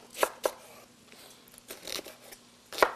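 Leeks are cut up with a knife: a few sharp chops separated by softer rustling and crinkling of the leaves, close by and without speech.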